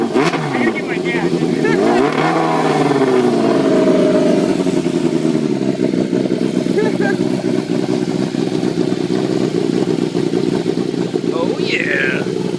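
A 1989 Yamaha FZR600 motorcycle engine, restarted after sitting seven years and running rich, idles and revs steadily and loudly throughout, with excited voices talking over it.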